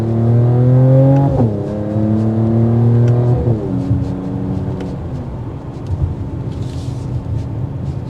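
A 2022 Mercedes-AMG GT43 accelerates hard on a test drive, its engine note climbing through two or three gear shifts before settling into a steady cruising roar with road noise, heard from inside the car.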